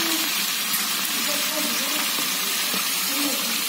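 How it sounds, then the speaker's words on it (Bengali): About 1.5 kg of chopped onions and green chilies frying in a large pot for chicken biryani, a dense steady loud sizzle close by without pause, with faint talk beneath it. "পেঁয়াজটা সুন্দরভাবে ভেজে নেওয়া হবে।"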